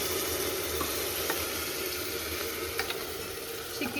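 Chicken pieces drop into onion, ginger and garlic sizzling in a pressure cooker, giving a steady loud hiss of frying with occasional soft clinks and stirring knocks.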